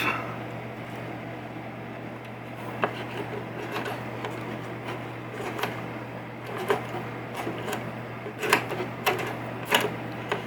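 A socket wrench is worked on the ball count stepper unit of a 1972 Williams Super Star pinball machine, giving irregular clicks and metallic ticks over a steady electrical hum. The clicks grow sharper and louder near the end.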